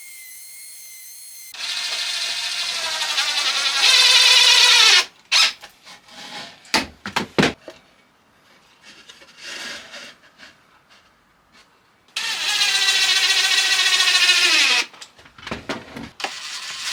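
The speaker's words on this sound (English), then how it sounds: "I'll just cut them all at once using the jigsaw." A jigsaw cuts curved shapes through several wood pieces screwed together, with two long buzzing runs of rapid blade strokes and a stretch of scattered knocks, scrapes and short bursts between them.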